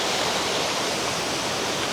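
A mountain waterfall in a forest roars as a dense, loud, unbroken rush of falling water, steady from start to finish with no voices.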